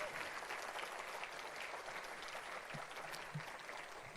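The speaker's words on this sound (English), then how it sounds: "Let's give them a nice round of applause." An audience at a community address claps steadily in a warm, continuous round of applause that sounds somewhat distant and fairly quiet, with no talking over it.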